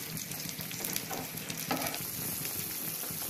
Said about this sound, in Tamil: ஒரு 5 நிமிஷம் இந்த மாதிரி நல்லா கொதிக்கட்டும்.